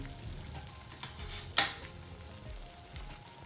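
Chutney masala spices going into paneer masala frying in a pan: a quiet steady sizzle broken by a sharp clink near the middle and a couple of lighter taps.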